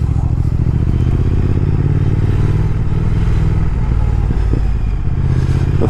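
A 2019 Triumph Speed Twin motorcycle rumbles loud and close while riding, its steady engine throb dominating with some mechanical clatter and wind noise.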